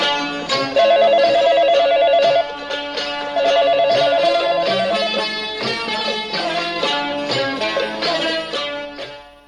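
A telephone ringing sound effect plays as a loud, repeating electronic ring pattern, sustained for several seconds on its own and fading out at the end.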